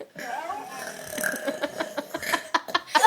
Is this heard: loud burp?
yes